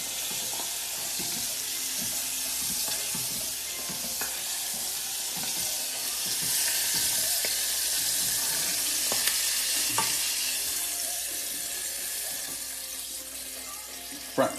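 Food frying in hot oil, squid tentacles in the last batch, a steady dense sizzle with scattered pops and spits, close and unbroken throughout.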